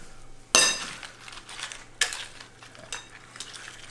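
Tortilla chips being tossed with ladled salsa verde in a mixing bowl, giving sharp scraping clatters at the start and a few more crunchy stirring knocks that follow, close up with no talking.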